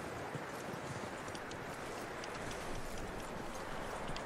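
Horse hooves clip-clop steadily in the Red Dead Redemption 2 video game, a soft rhythmic patter of steps under a constant broad background hiss.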